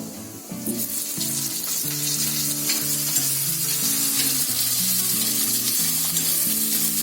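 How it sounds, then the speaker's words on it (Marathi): Onion and cumin seeds fry in hot oil in a deep pan, giving a steady, loud, continuous sizzle with faint stirring scrapes and no talking. "जिरा आपला चांगला तडतडला ना, की त्याच्यामध्ये कांदा टाकायचा."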